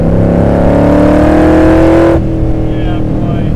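A Superformance Shelby Cobra with a Roush 427 engine making over 500 hp holds a loud, steady high rev close by, then drops sharply to a lower idle, with voices chatting over it.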